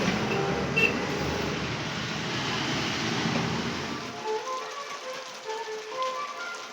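Dense, loud hiss of heavy rain for about four seconds, then a softer patter with scattered drips and taps.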